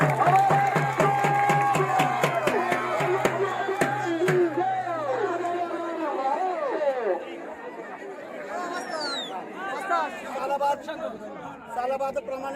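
At a village wrestling event in Taleran for Hanuman Jayanti, the crowd claps in a burst of quick, close applause that fades into noisy crowd chatter, with voices talking throughout.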